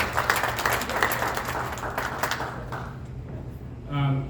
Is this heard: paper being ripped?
no